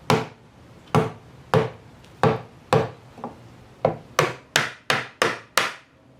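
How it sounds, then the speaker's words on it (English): A trim tool strikes the window channel of a 1965 Ford Falcon in about a dozen sharp, close knocks, spaced slowly at first and then quickening into a rapid run of blows. "I'm going to be hitting it with our trim tool to try and get the channel off"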